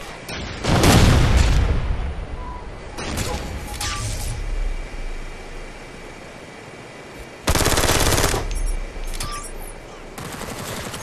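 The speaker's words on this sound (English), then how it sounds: "Flashbang out!" Bursts of machine-gun fire and booming gunshots in the Ghost Recon: Future Soldier video game, where a flashbang grenade goes off. The noise is loud and comes in several separate volleys over a continuous battle background.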